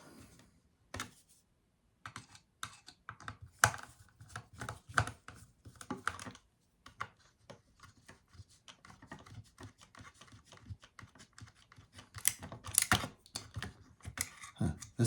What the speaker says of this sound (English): So I just basically undo these 3 Phillips screws.